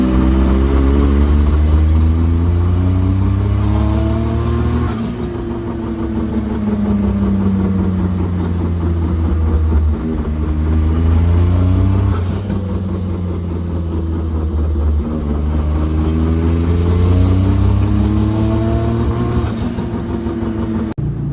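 A Honda Beat PP1 small roadster runs on a first drive with a loud, continuous engine drone and a rising and falling whirring tone like a worn wheel bearing, cycling through several swells, with no talk.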